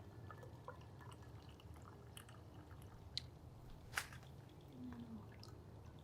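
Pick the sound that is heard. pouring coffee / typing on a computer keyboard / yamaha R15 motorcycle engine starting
pouring coffee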